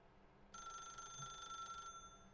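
A telephone rings in The Stanley Parable, a single faint, steady electronic ring tone that starts abruptly and holds for over a second before cutting off, heard alone against quiet background noise.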